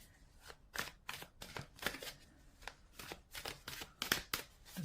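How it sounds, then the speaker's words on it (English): A deck of tarot cards is shuffled by hand, a run of quick crisp riffles and slaps repeating at a steady rhythm, close and fairly quiet with no talk. "Let's give these a bit of a shuffle."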